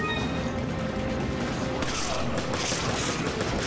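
Gunfire crackles through a Resident Evil 5 escape battle, dense rapid shots and booms layered over a constant loud din of game noise.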